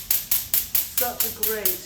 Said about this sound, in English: whacking your head with a wisdom stick